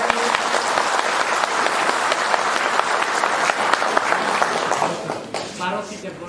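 A crowd claps for Nupur Dev Varma at a Tipra Motha foundation day gathering, a dense, loud round of applause that holds steady, then thins out as a voice comes in near the end.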